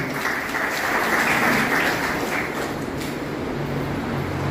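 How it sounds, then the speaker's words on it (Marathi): Steady, dense applause from a seated audience honouring dignitaries on stage at a Marathi awards ceremony, sustained and fairly loud throughout with no break. "त्यांच्यासाठी 4 टाळ्या आनंदाने वाजवूया."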